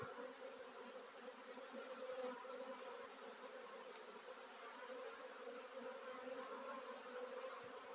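Honeybees from a captured swarm drone steadily around their hive box in cold weather, a dense, even buzz of many insects, close and continuous with no talk.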